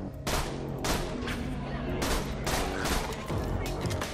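Rapid gunfire from the video game Borderlands 2 comes in loud repeated bursts with short gaps between volleys, dense and close throughout.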